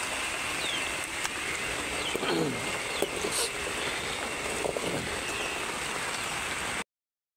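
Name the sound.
rain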